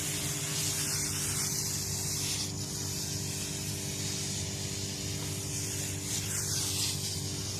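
Water hisses from a sprayer onto dry leaves piled for NPK compost. The spray is a continuous, fairly close hiss with no talk.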